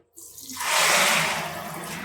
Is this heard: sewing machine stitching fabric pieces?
no